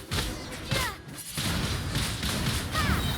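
A Windblade wind attack in Genshin Impact lands as a series of whooshing swishes and thudding impacts, several bursts in about three seconds, up close and fairly loud.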